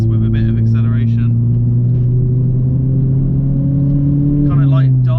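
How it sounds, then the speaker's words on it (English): A 330bhp Ford Fiesta ST180 accelerates in second gear, its loud, steady engine drone rising smoothly in pitch from inside the cabin, with brief bits of someone speaking at the start and end. "If I was to drop to second gear to go around this with a bit of acceleration"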